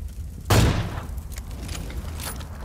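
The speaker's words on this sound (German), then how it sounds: "das war eine schöne Explosion, gefällt mir" A single sudden video game explosion booms out and rumbles away, followed by faint scattered clatter and noise.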